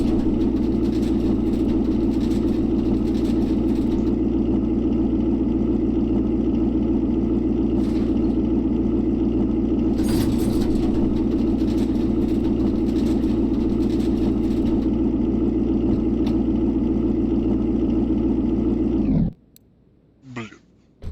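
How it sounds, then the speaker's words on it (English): A misfiring car engine and exhaust in the Car Mechanic Simulator 2021 video game, a loud, steady, rough drone that runs unbroken for most of the clip, then cuts off abruptly into near silence. "I'm sure we'll be able to detect where that exhaust noise is coming from pretty easily."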